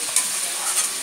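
Taro stolons and prawns fry in a wok in steady, close sizzling hiss, with one soft knock partway through and no voices.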